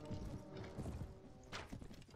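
Horse hooves clopping in Mount and Blade: Warband, a dense run of thudding footfalls layered with mixed game noise and a brief brighter burst near the end.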